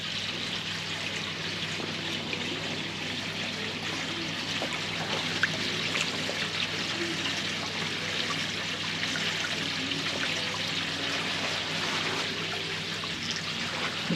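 Water and koi fish pour from a container into a large pond, making a continuous splashing, trickling rush that stays fairly even and close throughout, with no voices.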